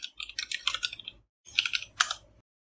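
A name is typed on a computer keyboard in two quick bursts of close, crisp key clicks separated by a short pause.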